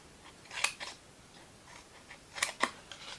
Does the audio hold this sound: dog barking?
no